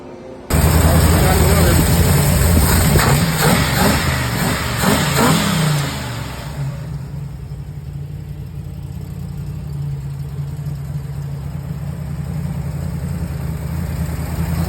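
An LS V8 swapped into a Jeep CJ7 fires up loudly, revving hard for several seconds before dropping to a steady, rumbling idle that continues to the end, with people talking over it.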